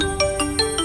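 A mobile phone rings in a Hindi TV drama scene: a quick, loud electronic ringtone of bright repeating tones pulsing about five times a second, with no one speaking.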